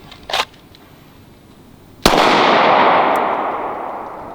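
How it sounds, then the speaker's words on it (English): A handgun shot fired at an outdoor shooting range during a cold-start drill: one sharp, loud report with a long ringing decay, following a faint earlier pop. "So you guys could hear the first shot was a miss."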